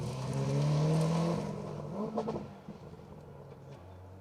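Subaru Impreza four-wheel-drive rally car on a North Wales forest stage, engine note rising in a strong revving pass that swells then fades into quieter running.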